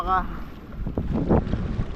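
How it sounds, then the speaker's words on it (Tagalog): Gusty wind buffets the microphone at a windy outdoor spot, a rough low rumble that swells and fades over two seconds, with a brief tonal whistle at the start. "Pasensya na po at mas mahangin po sa lugar na to."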